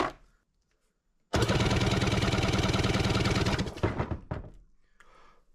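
2003 Sea-Doo GTI RFI two-stroke engine spun by the starter for a compression check, a loud rapid rhythmic cranking chug lasting about two and a half seconds, then a few fading turns and quiet.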